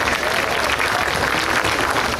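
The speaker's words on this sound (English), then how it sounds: "Again, round of applause, this is awesome." Steady, dense audience applause at the grand opening of SeaWorld's Turtle Reef, loud and continuous from start to finish.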